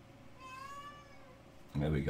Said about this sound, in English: You can hear the cat crying in the background.